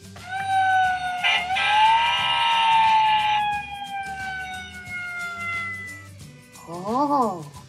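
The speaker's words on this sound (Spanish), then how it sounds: "Esto es el sonido de mi camión de bomberos." A cartoon fire truck siren wails in long rising and falling tones, followed near the end by a quick warbling siren burst, with a child-show voice speaking around it.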